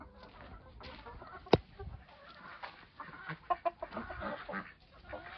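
Chickens cluck in short, irregular bursts close by, with one sharp knock early on and soft rustling between the calls.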